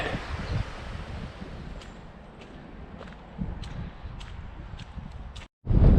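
Outdoor wind rumbling and buffeting against the microphone on a hike along the Gritstone Trail, gusty low roar with occasional footsteps or rustles and a sudden loud blast near the end.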